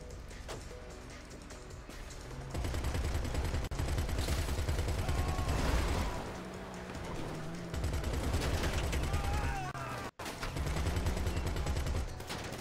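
Gunfire in GTA Online, rapid repeated shots that run steadily through most of the stretch after a quieter start, with one brief dropout, amid game ambience.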